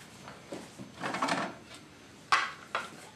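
Kitchen drawer sliding open with cutlery and dishes clattering as a table is set at home; several short knocks and rattles, then two sharper clinks near the end, close and fairly quiet.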